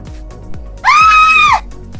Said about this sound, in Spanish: vamos a encontrar, por ejemplo, el efecto del grito. Voy a colocar grito.